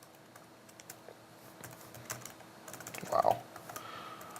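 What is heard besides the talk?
typing on a computer keyboard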